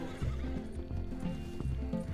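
Horse whinnies and clip-clopping hooves from Red Dead Redemption 2, loud and close, with a neigh rising over a steady rhythm of hoofbeats.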